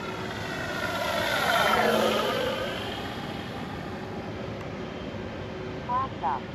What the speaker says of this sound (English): Fairly low, not super low. That was with takeoff flaps though.